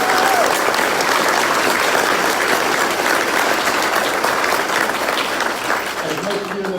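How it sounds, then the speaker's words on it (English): An audience at a county gun rights forum in Brevard County, Florida, claps steadily and loudly throughout, a dense sustained wash of applause that thins slightly near the end. "please give them a big round of applause"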